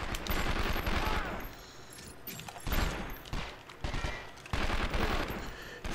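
Bursts of enemy gunfire from 24: The Game on PlayStation 2, loud rapid volleys coming in three or four separated waves, with a voice talking faintly underneath.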